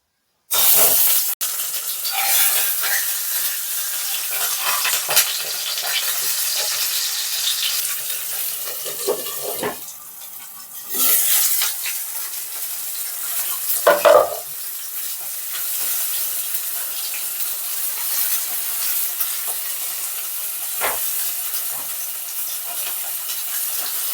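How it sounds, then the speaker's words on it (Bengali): A rohu fish head fries in mustard oil in a pan with a steady, loud hiss and sizzle that runs throughout, broken by a few brief dips and bursts of spattering. "মাছের মাথাটা খুব ভালো করে বেশ কড়া করে মাছের ভাজাটা আমি ভেজে নেব"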